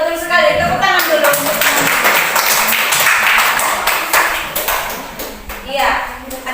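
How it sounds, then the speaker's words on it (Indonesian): Students clap together in a classroom, a steady dense patter of hands running through most of the moment and thinning near the end, with a few voices heard alongside. "Tepuk tangan dulu."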